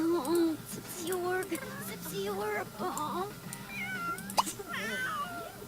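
Cats meowing in The Sims 3 life-simulation game, several repeated close meows and wavering cries in quick succession over a low game background.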